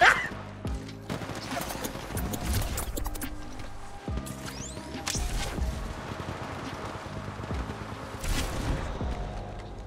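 Gunfire in the shooter video game Apex Legends, repeated sharp shots and bursts spread over the whole stretch at moderate loudness, mixed with game music and impacts.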